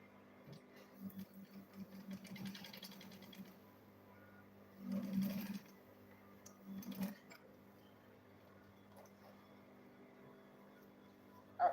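A sewing machine stitches fabric for a double-zip lunch bag, giving faint, quiet whirring bursts in short runs, with a louder run near the middle and small clicks and handling noise between.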